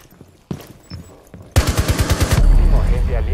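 Rapid automatic gunfire from the video game Rainbow Six, preceded by a couple of isolated shots, then a tight burst of evenly spaced rounds that gives way to a loud, sustained roar of fire.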